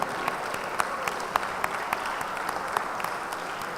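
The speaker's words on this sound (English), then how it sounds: "May I ask you to stand and give R.K. Sinha a great applause for a tribute to his contribution" A standing audience applauds as a tribute to R.K. Sinha at a Founder's Day 2015 gathering, a steady dense wash of clapping with scattered sharper claps throughout, moderately distant and without speech.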